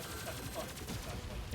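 Gunfire from the Terminator 2D: NO FATE video game on PC, a dense run of rapid shots blending into a steady, busy barrage at moderate level with no pauses.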